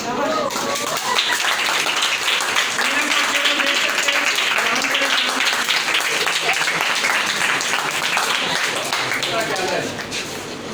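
A crowd applauds the winner of an Urdu calligraphy competition, with dense, sustained clapping that fills roughly ten seconds at a steady, loud level before easing slightly at the end.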